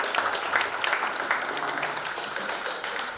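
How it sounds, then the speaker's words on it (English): An audience applauds speakers at a faith-community event on the opioid crisis, with dense, steady clapping from many hands throughout, close and fairly loud with no talk over it. "So if you will give everyone a round of applause for our speakers."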